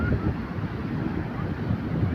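Ocean waves wash in at Karapyak beach during the dry season, a continuous low rushing surf heard close, muddied by wind buffeting the microphone.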